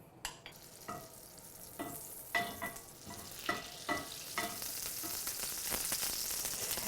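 Butter melting into shimmering hot oil in a frying pan, a quiet steady sizzle that builds gradually, broken by several soft clicks and taps of a utensil against the pan.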